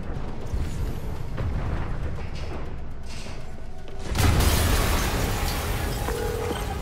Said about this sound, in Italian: Yuri, un'esplosione a...